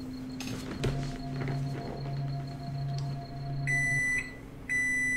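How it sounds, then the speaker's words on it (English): A microwave oven in the video game Omori runs while heating a cold steak: a steady low electrical hum for a few seconds, followed by a series of bright, clear beeps signaling it has finished. "that actually sounds exactly like my microwave"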